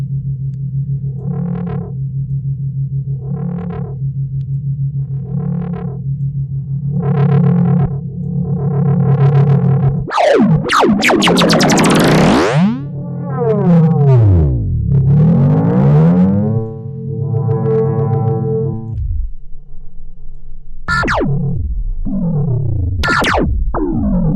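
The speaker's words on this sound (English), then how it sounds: "An LFO to automate a few of these parameters so I can give more life to the delay effect." Loud electronic synthesizer tones from a virtual modular synth (VCV Rack) repeating with echoing delay modulated by an LFO, then sweeping, warbling distorted swoops and sharp bursts, dense and continuous throughout.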